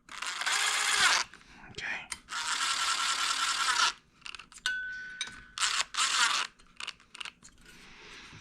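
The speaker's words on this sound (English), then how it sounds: "Snug it with this 11mm socket." A ratchet with an 11mm socket snugs cylinder head nuts on an engine rebuild, with several bursts of rapid close clicking separated by brief pauses and a short spoken word.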